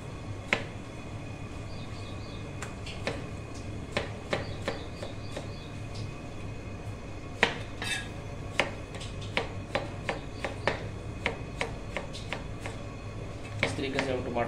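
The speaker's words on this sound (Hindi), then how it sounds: "इस तरीके से हम टमाटरों को काट लेंगे।" Knife cutting tomatoes for mutton karahi, a run of crisp, regular taps on a cutting board, close and fairly clear over a low steady background hum, no voice heard.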